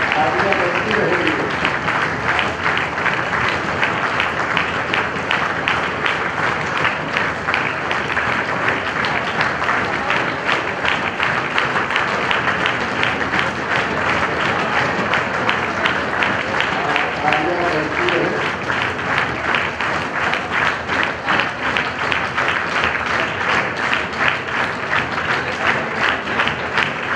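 Sustained audience applause fills a youth parliament event hall in Siwan, a steady dense wash of clapping with a voice faintly present over it throughout.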